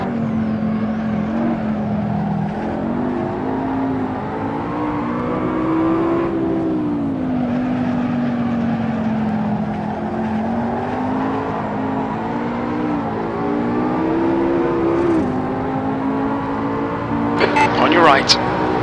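Race cars run laps at the Red Bull Ring, a steady engine drone with rising and falling pitch as the car accelerates and shifts, loud and close throughout, with a brief burst of extra noise near the end.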